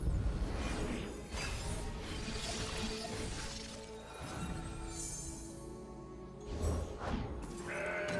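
A goat bleat from the Mountain Goat card in the Legends of Runeterra video game sounds over busy game music and effects, with a crashing hit partway through.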